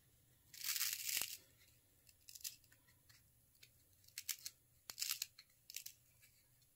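A stack of trading cards being shuffled by hand, giving quick crisp riffling and flicking bursts in several short clusters with brief pauses, close and fairly quiet, no talking.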